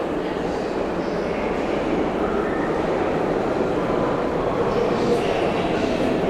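A NYC subway 7 train at the Times Square 42nd Street platform gives a dense, steady rumble of wheels and motors that fills the whole stretch, with a faint squeal or two over the din.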